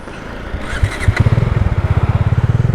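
A 600cc police motorcycle engine rumbles, then settles into a steady, rapid, loud close-up idle pulse, with no talking.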